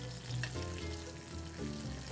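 Alaskan red salmon fillet frying in a hot pan, a steady close sizzle with soft crackling pops, holding even for about two seconds with no voices.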